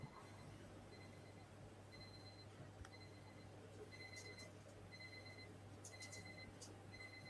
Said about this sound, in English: Oh, was the alarms going off?